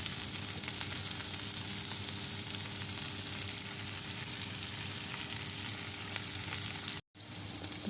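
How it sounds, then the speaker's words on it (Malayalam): Fish fries in a pan in a home kitchen, giving a steady, even sizzle that runs unbroken until a short gap near the end. "ബാക്കി മീനും കൂടെ വറുക്കാനിട്ടിട്ടുണ്ട്."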